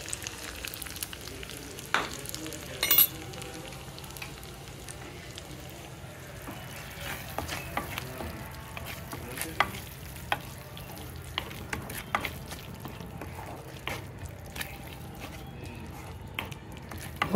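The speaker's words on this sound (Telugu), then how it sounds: "అండ్ నెయ్యి వేడికి వేగిపోతాయి ఇవి." Grated papaya sizzling and frying in hot ghee on a stove that has just been switched off, a steady soft crackle with occasional stirring scrapes, close and unbroken.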